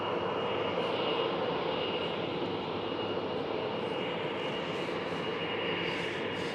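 An Air Astana Airbus A321neo starts its engines at Amsterdam Schiphol, producing a steady, fairly loud engine roar and hum that stays even throughout, with no voices.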